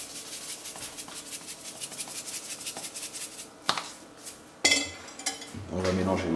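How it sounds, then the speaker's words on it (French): A utensil stirs veal blanquette ingredients in a metal pot with rhythmic scraping and rubbing, close and moderate, then a few sharp clinks of metal against the pot and a fuller clatter at the end. "On va mélanger le tout."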